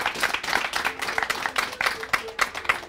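Audience applause honouring students and their mentors at a comic book launch and exhibition, steady dense clapping throughout at moderate level.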